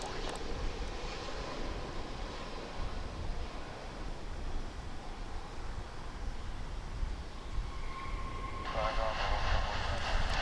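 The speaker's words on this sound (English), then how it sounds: "We have American Flight 702 coming in from Sacramento in California" American Airlines Boeing 737-800 arriving at DFW airport, a broad distant jet roar with wind-like noise, building slightly toward the end, while someone talks over it.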